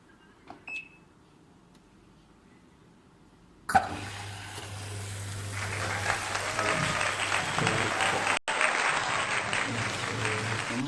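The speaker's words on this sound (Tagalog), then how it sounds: "Nalabas yung tubig dito." Water gushes steadily from a newly installed waterline hooked up for washing clothes, starting abruptly after a quiet moment and then running loud and continuous, with a brief cut near the end.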